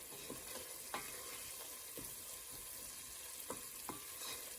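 Frozen, finely chopped tomatoes cook down in a pan for a dal, giving a faint, steady sizzle with scattered soft clicks of stirring.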